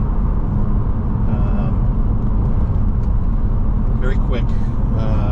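A 1998 Lotus Esprit V8 twin-turbo engine drones steadily in fifth gear, a dense, loud, continuous roar from inside the car, with brief voice sounds near the end.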